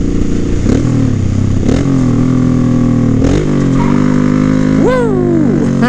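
A Honda 1100 Sabre motorcycle engine rumbles steadily nearby, with a few sharp shift clunks and brief rev blips, then a rising and falling squeal near the end as the rear wheel locks up.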